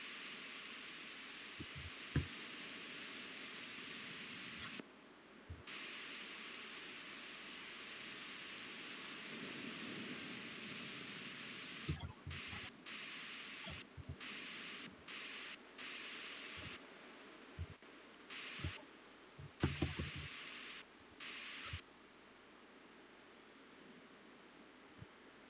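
Aerosol spray paint cans hiss onto a car door in a garage, long steady bursts broken by short pauses and then a run of quick choppy sprays, close and fairly loud with occasional light knocks.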